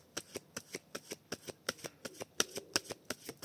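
Tarot cards are handled and cut, giving a quick run of about sixteen crisp, evenly spaced flicks and snaps, close and clear, with a couple of sharper snaps near the end and no talking.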